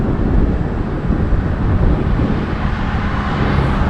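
Heavy wind buffeting the microphone while riding a Ninebot One E+ electric unicycle with a GoPro windscreen into a stiff headwind, a loud continuous low rumbling roar with no gaps.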